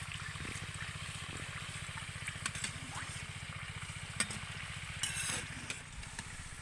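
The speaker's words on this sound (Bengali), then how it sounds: "এইবার আমি পিঠের দুটো সাইডে খুব সুন্দর করে ভেজে নেব" Semolina poa pitha batter frying in hot oil, a steady close sizzle with fine crackling bubbles and a few sharper pops and clinks of a utensil, continuous and moderately loud.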